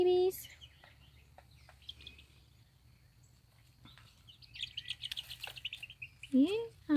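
Baby chicks peep in a greenhouse nursery, with soft scattered chirps early on and louder, busier chirping near the end, over a faint low hum.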